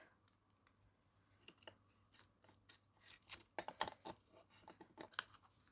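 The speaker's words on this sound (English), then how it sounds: "Scissors." Quiet snips of scissors cutting paper, a few sparse cuts at first and then a quicker run of crisp snipping near the end.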